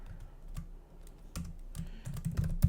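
Fingers tap out a short burst of keystrokes on a computer keyboard, close, light clicks with a few heavier strokes toward the end and no voices.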